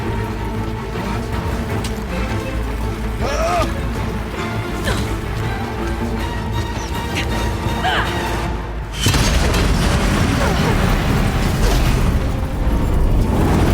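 Explosions and shattering blasts in the video game Horizon Zero Dawn The Frozen Wilds, with loud booms over a dense layer of game music and effects and a heavy burst near the end, plus brief voice lines.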